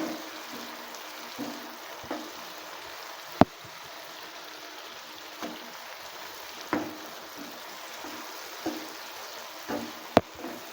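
Tomatoes and onions frying in a pan for an egg masala, with a soft steady sizzle and scattered sharp pops and clicks from the spatula over a quiet background.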